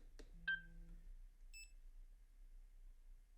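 A short electronic beep from the shutter button of an Insta360 GO 3S camera, one clear tone that is close and alone, followed by a fainter high double chirp in quiet surroundings.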